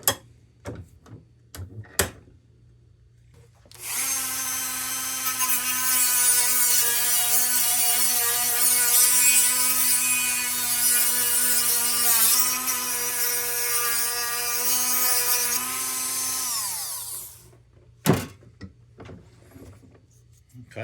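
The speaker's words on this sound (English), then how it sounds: "now we're going to clean it up with a Dremel." Dremel rotary tool cleaning up a drilled hole: a steady, loud high-pitched whine runs for about thirteen seconds, its pitch wavering slightly before spinning down, with a few short clicks and knocks before and after.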